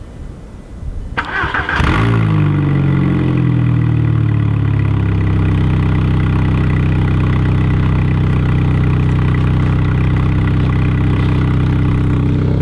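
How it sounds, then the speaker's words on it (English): A Volkswagen Jetta with a repaired exhaust cold-starts, cranking and catching, revving up loudly before settling into a steady, rumbling idle that continues close by. "go ahead and do the first cold start of the car since I fixed the exhaust"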